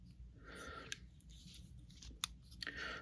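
Scissors on a Leatherman Free P4 multitool handled close up, a few faint metallic clicks and snips scattered over about three quiet seconds.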